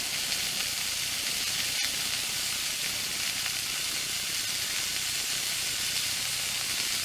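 Steaks frying in a small cast iron pan, a loud, steady, unbroken sizzle and hiss close by, with one faint click partway through.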